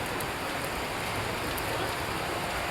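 Steady rain pours down onto garden plants and leaves during a monsoon shower, a dense, even hiss of drops with no breaks, close and moderately loud.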